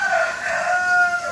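A backyard chicken gives a short, close, drawn-out call, a single tonal squawk lasting barely over a second.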